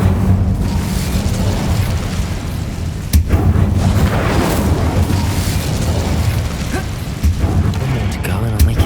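An Incendio fire spell blast in the video game Hogwarts Legacy, a loud roaring, booming burst of flame that rumbles on for several seconds with sharp pops and thuds.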